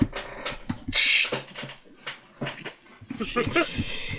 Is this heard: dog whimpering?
yes